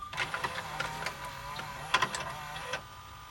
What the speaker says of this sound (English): Looks like it laces up and plays when there's no record tab